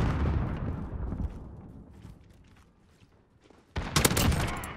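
Gunfire in Call of Duty: Modern Warfare: a loud rattling burst at the start fades into quieter distant shots, then a second sharp, dense burst of fire near the end, with almost no talking.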